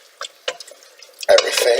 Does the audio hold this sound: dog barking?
no